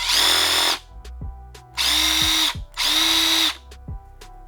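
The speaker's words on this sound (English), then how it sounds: "if I get a drill connected to this thing somehow and get this thing spinning with a drill, it'd probably go really, really fast" A power drill spinning an aluminum BMX hub for polishing, three loud sustained whirring bursts close up, each roughly a second long, with short pauses and faint clicks between them.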